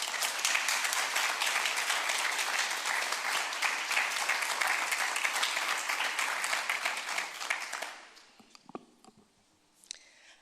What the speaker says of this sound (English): Let's give a round warm of applause for Nadej Barber.